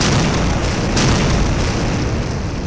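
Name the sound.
explosion blast sound effect in X-Men cartoon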